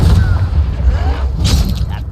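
An Incendio fire spell blasts in the Hogwarts Legacy video game, a loud roaring whoosh with rumbling thuds and crackle, sustained throughout and dense in the low end.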